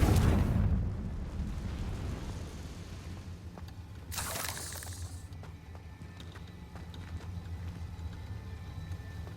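A magical blast from the Confringo explosive spell in the Hogwarts Legacy video game hits with a loud low burst at the start, then fades into a rumbling hum with a brief crackling flare midway.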